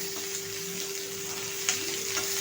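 Roughly chopped onion chunks sizzle in hot oil for Nagpur-style Saoji chicken, a soft, continuous frying hiss close by with a faint steady hum and an occasional stir.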